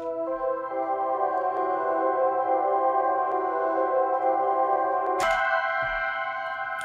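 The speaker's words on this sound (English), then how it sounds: "And then you go ahead and you put Grossbeat on it with this half speed" A synth arpeggio processed with a Gross Beat-style half speed effect in Studio One, its tones slowed and sustained in a steady drawn-out pattern, alone and quiet, ending with a sharp accent near the end.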